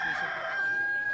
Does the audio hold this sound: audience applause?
no